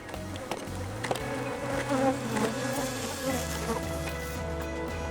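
Bees buzz steadily around crops outdoors, a dense continuous drone with shifting pitches from several insects close by, no talking.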